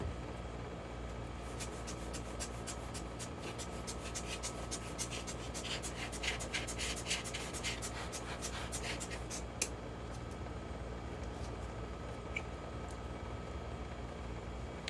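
Paper towels rub and wipe over wet metal in a steady, faint, close scratching that swells briefly in the middle before settling back to a soft rasp.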